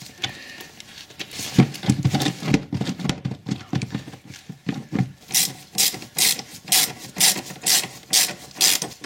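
A hand tool ratchets and rubs while hose clamps are tightened on a Renault Rodius, scraping strokes at first, then a run of evenly spaced clicking bursts, close and moderately loud.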